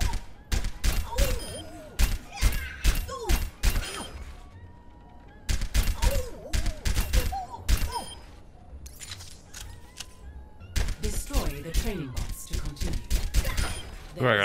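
Weapon fire in the Overwatch tutorial comes in rapid clustered volleys of sharp shots separated by short pauses, mixed with mechanical reload clicks, while a voice speaks over parts of it.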